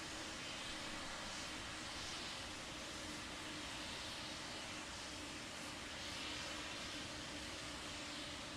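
Relativity Space's first Terran 1 rocket, a methane-fuelled launcher, flies downrange after liftoff as a faint, steady, distant roar with no voices over it.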